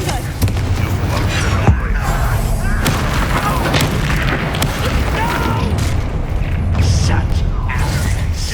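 Fiery spell blasts boom repeatedly in Hogwarts Legacy combat, loud bursts over constant battle noise and crackle, with a spoken incantation and taunting voices layered on top.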